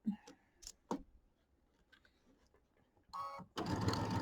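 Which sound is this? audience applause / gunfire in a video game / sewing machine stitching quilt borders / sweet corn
sewing machine stitching quilt borders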